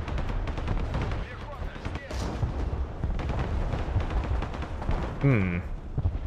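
Rapid bursts of gunfire and heavy weapons crackle continuously in the WARNO war game during a Hostomel battle scenario, dense overlapping shots with a sharp whistling streak near the end, under occasional talk.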